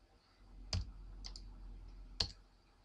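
Sharp mouse clicks on a computer during a penetration-testing session, with two clear clicks and a fainter double tick between them in a quiet room.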